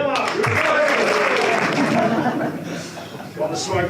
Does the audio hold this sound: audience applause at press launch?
yes